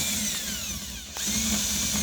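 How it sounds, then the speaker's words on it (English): A cordless drill whirs steadily, close and loud, with its pitch dipping briefly mid-run under load as it is used on an Alamo chuckwagon setup, no talking. "use a cordless drill"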